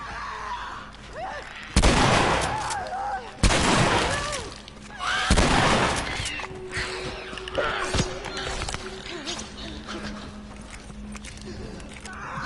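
Gunfire in The Last of Us Remastered aimed at a clicker, three loud sharp shots in the first half followed by scuffling and lighter impacts, with talk heard in places.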